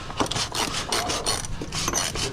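Steady scraping and ratcheting on the air filter fasteners of a 2018 Freightliner Cascadia with a DD15 engine, close and continuous with short rhythmic rasping strokes and no talking.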